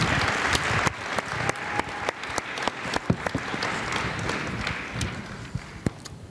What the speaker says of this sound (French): Je vais donc vous demander également d'applaudir la traductrice d'Asghar Farhadi